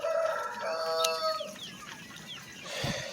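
Caged chickens drinking from nipple waterers cluck and give drawn-out calls, fairly quiet and close, with scattered softer cackles and no talking.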